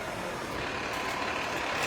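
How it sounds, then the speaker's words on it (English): A garbage truck on a city street gives a steady, moderately distant engine rumble and broad traffic hiss, continuous and without voices. "Let me get past the garbage truck here."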